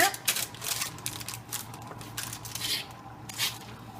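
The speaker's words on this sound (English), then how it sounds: "we'll just give it a great stir" Homemade granola coated in coconut oil, maple syrup, honey and vanilla stirred on a parchment-lined pan, giving close, steady dry crunching and scraping rustles in irregular bursts.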